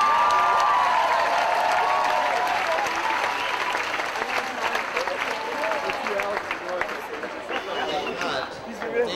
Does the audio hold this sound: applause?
yes